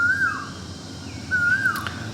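A bird gives two drawn-out whistling calls, each a rising-then-falling sweep like a wolf whistle, about a second apart, clear over steady outdoor background noise in Thailand.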